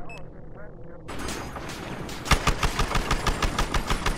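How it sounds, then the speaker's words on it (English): Rapid automatic gunfire in the video game Battlefield Hardline, a loud burst of evenly spaced shots over an engine rumble after a short quieter stretch. "And that guy's shooting you."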